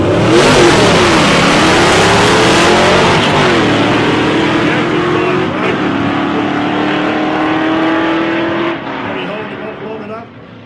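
Drag cars launch and accelerate hard down the strip at a street drag meet in Casterton, with a loud, sustained engine roar that rises and holds for about nine seconds before easing off near the end, under crowd and commentator noise.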